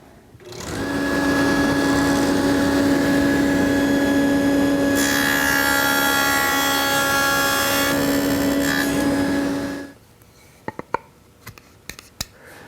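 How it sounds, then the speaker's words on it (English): A table saw with dado cutters and a sled makes a test cut. A loud, steady motor whine holds for about nine seconds and turns harsher while the blade bites the wood, then cuts off, followed by a few sharp clicks. "plug the saw in and make a test cut"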